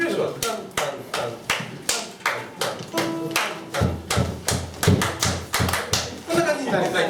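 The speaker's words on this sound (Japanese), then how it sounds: "手拍子はタンタンタン" Steady rhythmic hand clapping in a repeating pattern, sharp claps fairly close and loud, with a murmur of voices underneath.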